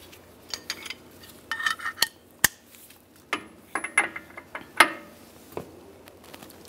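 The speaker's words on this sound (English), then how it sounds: "Now I'm moving the pry bar to the other side, and we're going to loosen the nut half a turn." Work on the front CV axle nut of a 1998–2010 Volkswagen Beetle brings scattered metallic clicks and clanks, faint to moderate and irregular, like a tool shifting and a ratchet catching, with no talk.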